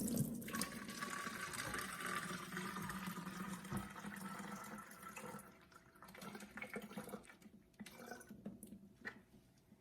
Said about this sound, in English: I have my 2 cups of hot water here, and I'm going to take it and pour it into my spray bottle